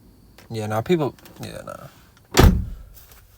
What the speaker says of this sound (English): I might crack this door.